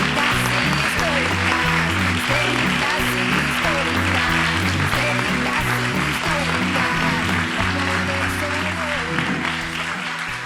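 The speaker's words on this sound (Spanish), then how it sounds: "Un aplauso moi forte para elas." A studio audience at a feminist video podcast applauds its two arriving guests, with sustained clapping over background music throughout.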